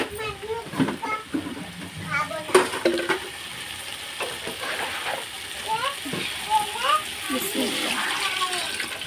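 Water is poured into a large sizzling rice pot. It hisses and splashes against the hot base while a person talks over it, and the bubbling continues steadily afterward.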